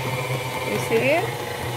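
A dough kneading machine runs on a flimsy folding table, producing a steady close motor hum with a rattling drone, while a voice briefly murmurs underneath.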